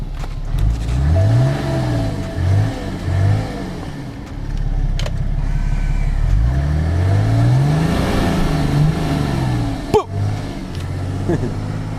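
BMW 7 Series F01 760i engine revving through its exhaust, rising and falling in repeated bursts of throttle, heard close and fairly loud while people talk over it.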